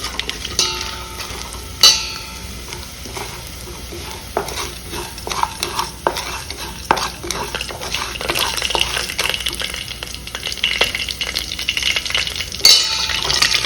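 Fenugreek, cumin and mustard seeds frying in hot oil for sambar masala, a continuous crackling sizzle with frequent sharp pops and spatters, louder and denser toward the end.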